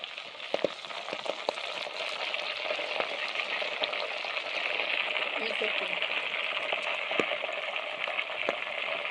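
Ghee frying and sizzling in a pan as it reaches readiness, with a few drops of water added to test it; a steady, close crackling hiss runs throughout with small pops.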